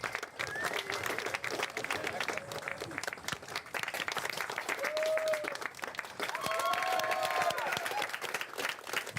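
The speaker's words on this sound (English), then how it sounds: "Applause if you like it" Steady applause from a crowd, with dense clapping continuing throughout, plus scattered voices and a few whistles mixed in.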